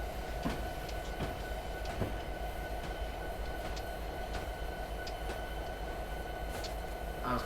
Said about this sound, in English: I was going to wait for the engine to come to a full stop